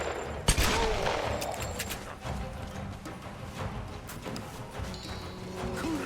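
Gunfire in the 2013 video game Tomb Raider: a sharp shot near the start, then a steady stream of scattered, muffled shots and clanks over a dense, noisy game backdrop.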